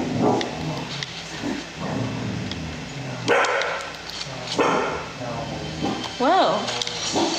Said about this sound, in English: Jax is gonna be barking for a second because he's guard dog